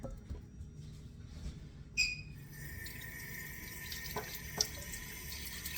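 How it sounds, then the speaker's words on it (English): Water from a kitchen tap runs steadily as hands are washed, a continuous close splashing stream that starts after a short quiet stretch, with brief clinks over it. "I'm going to wash my hands"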